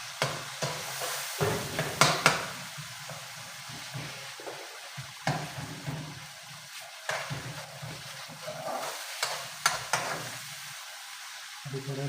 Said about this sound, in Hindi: अभी थोड़ा इसको फ्राई करेंगे,